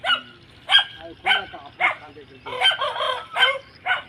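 A Punjabi Aseel rooster from a crowing bloodline crows in short, loud bursts close by, repeated several times with brief gaps between calls.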